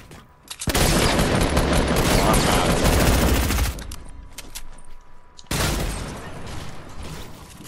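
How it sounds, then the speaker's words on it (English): Video game gunfire, a loud dense volley of rapid automatic shots that runs for about three seconds, drops to a quieter spell of scattered fire, then resumes with another strong burst. "I'm getting shot at from the hill"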